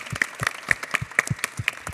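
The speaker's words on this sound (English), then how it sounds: "So let's give them a good applause for doing a great job." A small meeting audience gives applause for staff, a brief burst of fairly sparse, distinct hand claps with a loose rhythm, close and clear with no talking.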